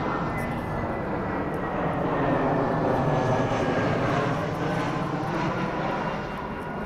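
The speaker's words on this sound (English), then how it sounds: "there's a plane right behind." An airplane flies overhead on approach toward LaGuardia Airport, its engine drone a steady, loud rumble that swells slightly at the midpoint and fades a little toward the end, with no talking.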